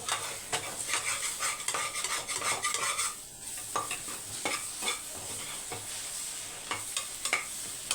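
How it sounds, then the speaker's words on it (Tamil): Egg being stirred and broken up in a frying pan over a low flame, with a soft continuous sizzle and a quick, steady run of spatula scrapes and taps against the pan, no voices. "இப்போ முட்டையை மிக்ஸ் பண்ணி விட்டுக்கோங்க."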